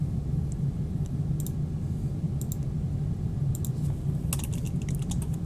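Quick bursts of typing on a computer keyboard, clustered toward the end, sit above a steady loud low hum with no voices.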